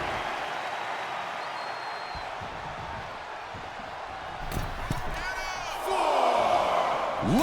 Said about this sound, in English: Beth Phoenix getting the crowd riled up right now.